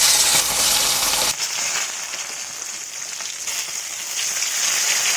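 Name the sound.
katla fish frying in oil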